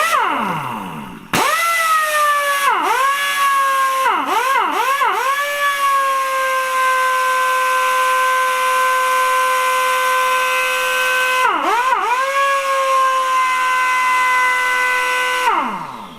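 A Kobalt Quiet Tech 26-gallon single-stage air compressor recharges with a loud, steady motor whine whose pitch dips briefly several times, then shuts off near the end.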